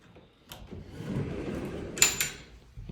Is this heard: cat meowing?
no